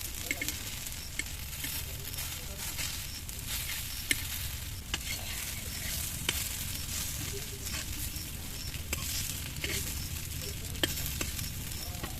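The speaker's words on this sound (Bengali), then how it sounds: "তেল দিয়ে একটু লাল লাল করে ভেজে নেবো।" Pieces of pumpkin and shrimp fry in oil, a continuous close sizzle and crackle with faint spatter ticks throughout, steady and unbroken.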